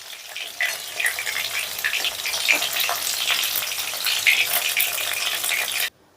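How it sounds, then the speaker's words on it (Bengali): Katla fish pieces fry lightly in a pan with a close, steady oily sizzle and crackle that runs throughout before cutting off abruptly. "আমি এটাকে একটু হালকা করে ভেজে নিচ্ছি"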